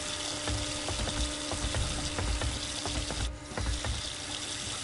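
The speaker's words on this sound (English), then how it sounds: "I can't seem to turn the water off." Water runs steadily from a tap into a sink, a continuous gushing stream with faint clicks, fairly quiet and close, with no talking.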